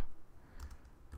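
Keys on a computer keyboard are tapped during web template coding, a few scattered clicks and soft thumps at low level with quiet room noise and no talk.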